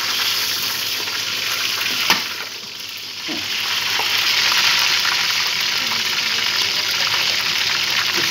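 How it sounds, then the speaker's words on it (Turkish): Onions sizzle loudly in hot oil in a pot, a dense continuous crackle up close, with a brief stir and clatter partway through. "Soğanlarımızı, yağın içine attık."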